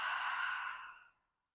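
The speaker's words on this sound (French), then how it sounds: "On prend une grande inspiration par le nez. On expire bouche ouverte." A long open-mouthed exhale during yoga breathing, a soft airy rush that holds steady and then fades out to silence, close and alone.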